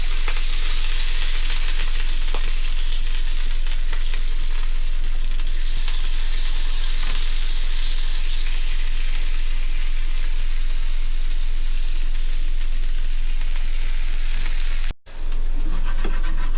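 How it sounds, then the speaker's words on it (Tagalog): Vegetable torta of onion, carrots and white cabbage fries in a pan, a loud, close, continuous sizzle with a brief cut near the end, no talking. "So, lutuin lang natin, i-fry natin siya."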